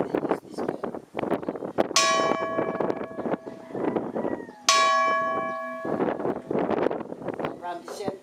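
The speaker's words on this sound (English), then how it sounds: "this bell is used for if there's something building before or some burned houses, they use this bell" A large church bell in the Bantay bell tower at Vigan, Ilocos, rings loud and close in two separate strikes, each leaving a long metallic ring that fades, with wind noise and someone talking between and around them.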